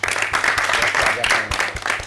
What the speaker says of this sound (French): Vraiment, applaudissez pour lui.